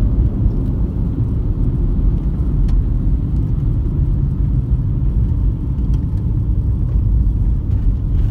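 Car interior with a steady low engine and road rumble while creeping along in slow traffic behind a school bus, a constant drone with no talk.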